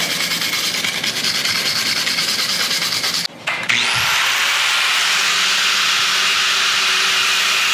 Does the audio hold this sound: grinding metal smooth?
yes